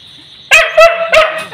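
A dog barks three times in quick succession outside a village house in Dibrugarh at night, loud and close against a quiet backdrop.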